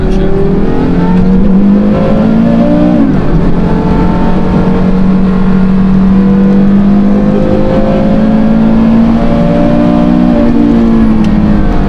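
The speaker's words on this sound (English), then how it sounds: "it's not until you get out that you realize how freaking awesome the exhaust noise is" Modified Porsche Carrera GT in a tight canyon, its engine and exhaust roaring loud and close with a rising rev, a sharp downshift blip partway through, then a sustained high wail as it pulls hard.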